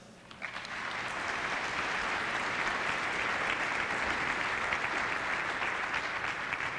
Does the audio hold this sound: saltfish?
no